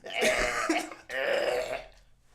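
Two harsh, phlegmy coughs or throat-clearing bursts close to the microphone, each lasting about a second, with a short gap between them.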